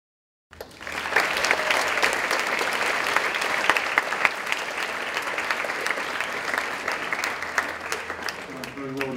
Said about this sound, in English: Very well deserved applause, Ellie.